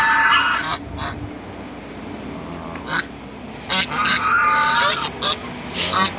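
Geese honk loudly and repeatedly on a farm where turkeys are also kept, in bursts of harsh calls separated by short pauses, close by.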